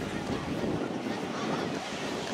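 Sea waves wash onto a Crimean beach in a soft, steady rushing surf with some wind noise on the microphone, fairly quiet and with no one talking.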